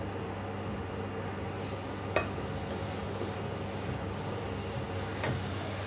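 Grated carrots sizzle quietly in a pan while being stirred and sautéed for carrot halwa, a soft continuous fry with two faint scrapes or taps of the utensil against the pan.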